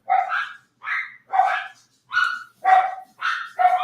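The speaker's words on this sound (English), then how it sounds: "He got my dog's barking." A dog barks repeatedly at close range, about seven loud, evenly spaced barks with short gaps between them, in a home kitchen.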